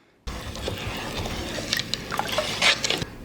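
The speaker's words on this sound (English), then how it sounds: "Now let's stir up our brine." Liquid sloshing and dripping as brine with a capful of balsamic vinegar is stirred, close and fairly loud, with small splashes and a few brighter clinks scattered through it.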